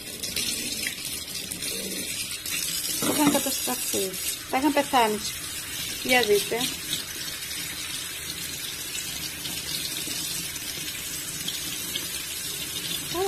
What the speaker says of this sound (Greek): ζεστό νερό να το ξεβγάλω με το ζεστό νερό